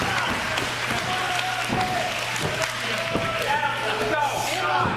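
A wrestling crowd at a tag match cheers and claps steadily throughout, a dense, continuous roar of voices and applause with scattered louder shouts rising over a low hum.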